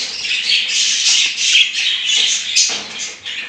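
Home-bred budgerigars chatter and squawk steadily in a dense, high-pitched flock while eating boiled cracked grain, with no voices over them.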